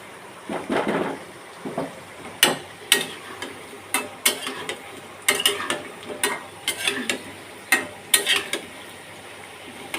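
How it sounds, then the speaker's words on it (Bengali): Spices are sautéed in a pan with repeated, regular stirring strokes that scrape and clatter against the metal over a low background sizzle, and no one speaks. "এখন ভালো করে কষিয়ে নিব"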